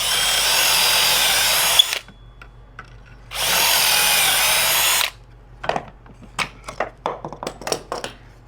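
A power drill bores pocket holes in wood held in a clamped pocket hole jig, sounding as two loud sustained whirring bursts, each about one and a half seconds long, followed by a series of sharp clicks and clatters.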